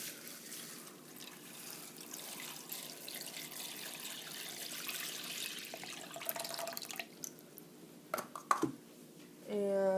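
Tap water running and pouring into a container to make a silver cleaning solution, a steady splashing flow that thins to trickles and drips before a louder gush at the end.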